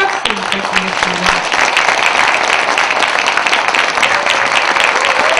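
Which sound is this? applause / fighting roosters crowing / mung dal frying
applause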